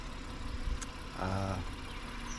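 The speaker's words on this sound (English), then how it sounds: "Sorry if you can hear my truck in the back" A truck engine idles in the background at an overlook in Shenandoah National Park, a steady low rumble running throughout, fairly faint and continuous with no talk over it.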